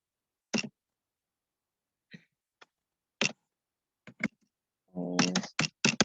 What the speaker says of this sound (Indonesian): kita ketik responden pada baris pertama